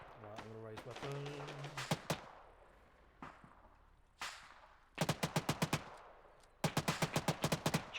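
Rapid bursts of gunfire crack out during a military convoy training exercise, with several loud, close rattling volleys in quick rhythmic strings, separated by single shots and quieter gaps, with talking over the earlier part.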